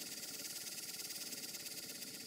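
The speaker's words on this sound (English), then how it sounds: "The engine that's currently running on screen is a Stuart Models number 4" Stuart Models No. 4 model steam engine running in a garden, a steady fast rhythmic chuffing hiss that holds even and continuous throughout, heard close with no talking.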